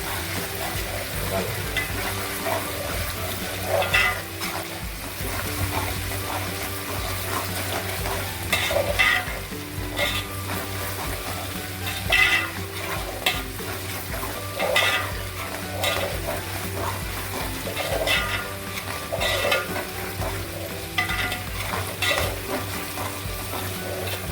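Onion and ginger paste fries and sizzles steadily in a pan, with a spoon stirring and scraping it at regular intervals and occasional clinks against the pan, close and fairly loud throughout.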